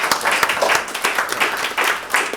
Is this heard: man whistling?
no